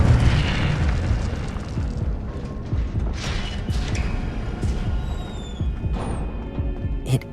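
Incendio fire spell cast in the Hogwarts Legacy video game on PS5, a loud whooshing burst of flame with a boomy rumble that sustains for several seconds and trails off, followed by a faint ringing tone.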